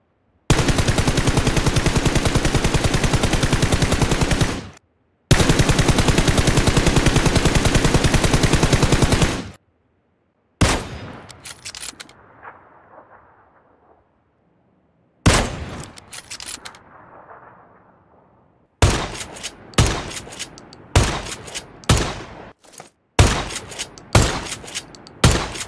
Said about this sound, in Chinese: 同一把武器腰射和开镜的枪声，为了更还原现实，游戏内也做了细微的区分